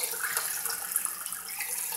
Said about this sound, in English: the pump itself started making somewhat of a noise